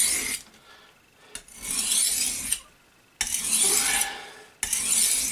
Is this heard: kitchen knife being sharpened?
yes